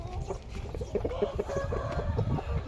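A six-month-old Vietnamese Saigon fighting cockerel makes a steady run of low clucks and short throaty calls, fairly close and continuous over about three seconds, mixed with other fowl noise from the flock.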